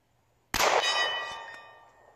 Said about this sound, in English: Do some more 50 meter shooting with the Steyr L40